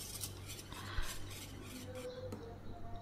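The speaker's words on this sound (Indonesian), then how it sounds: "Sambil kita aduk-aduk juga supaya uap panasnya hilang." Spoon stirring hot chocolate milk pudding in a pot just taken off the stove, soft scraping and light clinks of metal against the pot, quiet and close.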